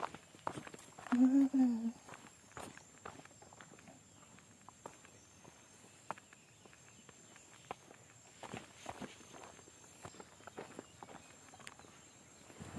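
Footsteps walk outdoors at a steady pace, each step a faint crunch or tap against light background noise, with a brief voice near the start and occasional stronger footfalls.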